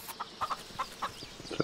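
Chicken in the video game Force of Nature clucking in short, quiet, irregular bursts, a handful of soft clucks spaced apart with no talking over them.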